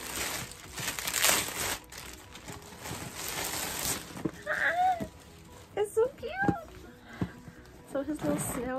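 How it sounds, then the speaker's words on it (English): Crinkly plastic wrapping is pulled off a pig-shaped bag in several crackling bursts, followed by a person talking with a few more rustles. "We're gonna take him out of his plastic."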